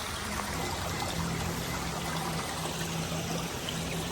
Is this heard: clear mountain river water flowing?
yes